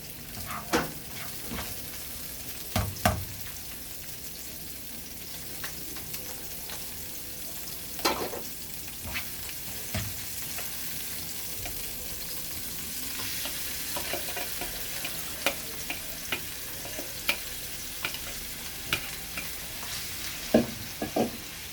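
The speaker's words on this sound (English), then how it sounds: "So I'm going to saute my sausage. A bit of onions." Sausage and onions sauté in a pan for Nigerian moi-moi, giving a continuous close sizzle with repeated scraping stirs and clanks from the utensil against the pan throughout.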